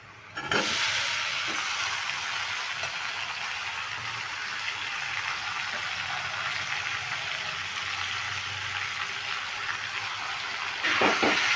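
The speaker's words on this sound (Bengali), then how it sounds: "এই যে মাখানো আছে সমস্ত উপকরণগুলো দিয়ে এটা আমি ঢেলে দিচ্ছি" A mixed spice paste goes into a pan with frying onions, setting off a sudden rush of hissing and sizzling that stays steady and fairly loud, then swells briefly again near the end.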